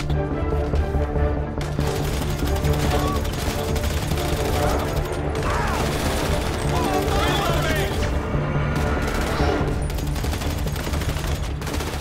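Gunfire in the GTA 5 zombie survival game comes as repeated rapid volleys and single cracks, loud and continuous, packed closely across the whole stretch.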